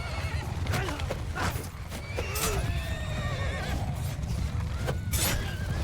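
Horses whinny and neigh repeatedly amid a chaotic Mount & Blade Bannerlord video game battle, with drumming hoofbeats and a dense rumble of fighting beneath the loud, overlapping calls.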